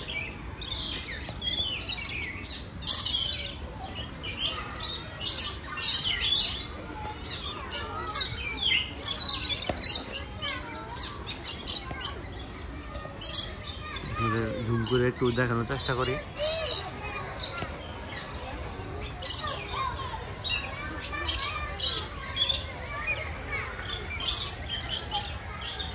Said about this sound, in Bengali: ওই যে লাল পাখি, আপনারা হয়তো বা সাউন্ডগুলো শুনতেই পাচ্ছেন